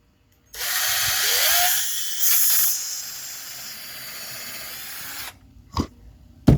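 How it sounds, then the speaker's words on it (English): A drill boring a hole through leather gives a loud hissing whir lasting about five seconds, rising at first and then fading. It stops, and a couple of short knocks follow. "I'm going to drill me a hole."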